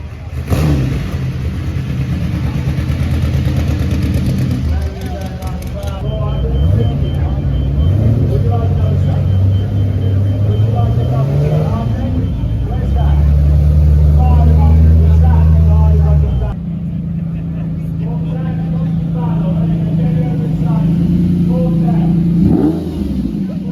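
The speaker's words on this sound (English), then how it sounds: "We've got the Fiat 8V Supersonic, which looks like it's just about to start up here." A classic Fiat 8V Supersonic starts up at an outdoor car auction during Monterey Car Week, its engine catching and then revving loudly up and down for a long stretch amid crowd chatter.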